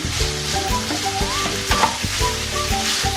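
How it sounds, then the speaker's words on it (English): White onion and French beans hitting a pan of half-cooked carrots, a loud crackling sizzle with utensil stirring and scraping over faint music, short and busy throughout. "I'm adding my onion, the white onion, and also the French bean into my"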